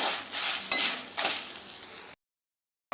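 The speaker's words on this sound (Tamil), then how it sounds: "லேசாக வந்து அந்த மிளகா ரோஸ்ட் ஆகணும் ஜஸ்ட்டு ஒரு ரெண்டுலேருந்து மூணு நிமிஷம் மட்டும்" Dried chillies roasting in a pan over a medium flame, a close soft sizzle with a few scraping stirs and a light clink, running for about two seconds before cutting to silence.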